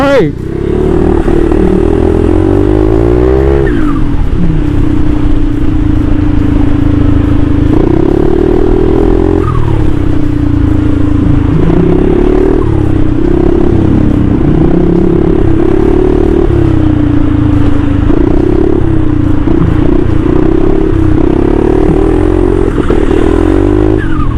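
A Forza 350 Turbo scooter engine drones steadily and loud, its pitch rising and dipping through several rev surges, with traffic clatter around it and talk over it.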